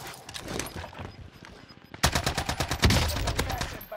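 Lapa submachine gun firing in Call of Duty Warzone on Rebirth Island, rapid bursts of close, punchy shots, quieter at first, then a louder sustained stream of evenly spaced rounds.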